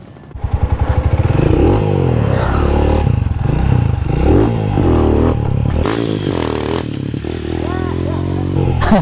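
Motorcycle fitted with low speed sprockets during wheelie practice, its engine loud and close, revving up and holding a throaty drone that rises and falls, with a few clattering knocks and a sharper surge near the end.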